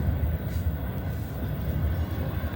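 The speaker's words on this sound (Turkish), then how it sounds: "Bu bir Daşoğuz treni." A Dashoguz–Ashgabat double-decker passenger train in Turkmenistan rumbles along with a steady, low, continuous rolling roar, heard from inside the carriage.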